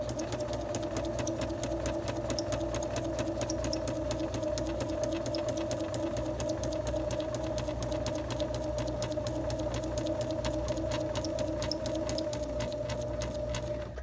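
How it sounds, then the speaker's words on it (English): A sewing machine driven by its foot control stitches a straight line, giving a steady, rapid ticking hum that runs evenly and fairly quietly for the whole stretch, with no talking. "Then you're going to continue sewing normally with the foot control."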